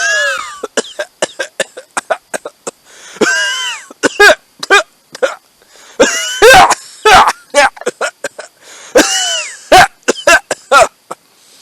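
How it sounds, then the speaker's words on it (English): Repeated harsh coughing fits mixed with throat clearing and wheezy, strained vocal sounds, loud and close, in irregular bursts; a man coughing in a radio drama adaptation of Poe's tale set among nitre-lined catacombs. "How long have you had that cough?"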